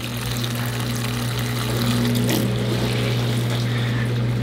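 Mini dishwasher draining water, a steady mechanical pump hum with a continuous watery rush, loud and close throughout, with no voices.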